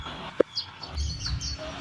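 Birds call as they arrive at an outdoor release site in Ilijan, Batangas, with a sharp click and several faint chirps over a soft background.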